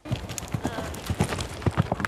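Horses' hooves clip-clop at an uneven, brisk pace on a street during a festive holiday outing in the capital. They come with a busy background of crowd noise and are moderately near.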